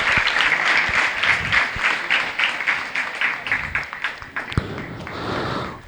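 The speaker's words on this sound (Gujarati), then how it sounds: "જોરદાર તાળીઓ બધા માટે." A school gathering bursts into lively applause for students being called up after a Geeta test, with many close, crisp hand claps forming a dense rhythmic patter that thins out and trails off near the end.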